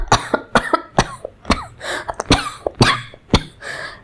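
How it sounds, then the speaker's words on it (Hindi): A girl coughs in a rapid series of harsh, close bursts, nearly a dozen in about four seconds, like a choking fit, with throat-clearing catches between them and no talk. "ऐसे खांसते रहती है जैसे उसको थोड़ी देर में सांस नहीं"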